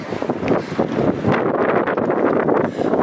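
Strong wind blowing outdoors at Jackson Lake Lodge in Grand Teton, a loud continuous roar buffeting the microphone with gusty swells, no speech.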